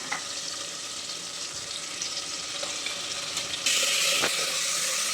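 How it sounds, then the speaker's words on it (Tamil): Ginger and garlic fry in a pan for a country chicken curry, giving a steady, close sizzle that brightens and grows louder near the end. "இப்போ பாருங்கள் நம்ம இஞ்சி பூண்டு போட்டுக்கலாம்"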